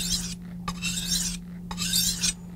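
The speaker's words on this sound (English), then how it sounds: "Simply take your DuoSharp, place it on the magnetic base, and you're ready to sharpen" A blade is sharpened on a DuoSharp diamond bench stone set on a magnetic base. About three long, close, harsh rasping strokes follow one another, each separated by a short pause.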